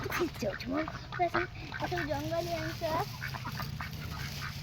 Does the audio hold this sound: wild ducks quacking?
yes